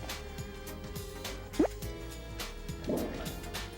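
Coins drop into the shallow water of a wishing pool inside Luray Caverns, two distinct small plunks about a second apart over quiet, echoing cave ambience with soft drips.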